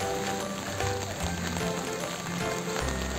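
Continuous October rain falls in the misty hills around Kausani, a dense, steady hiss of drops on surfaces, loud and close with no voices.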